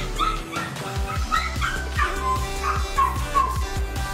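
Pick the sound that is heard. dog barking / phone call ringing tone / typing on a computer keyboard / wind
dog barking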